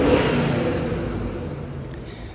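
Rolls-Royce Silver Spirit engine idling close by, a steady low rumble that holds evenly and fades very slightly over a couple of seconds, with no talking.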